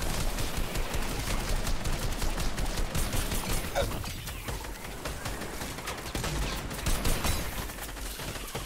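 Fortnite gameplay in Horde Rush mode carries rapid bursts of gunfire and mechanical clatter, dense and continuous, easing briefly in the middle before picking up again.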